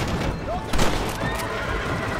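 A horse in the western game Red Dead Redemption lets out a loud, close neigh over busy game ambience, with a brief hoof clatter and faint voice-like sounds.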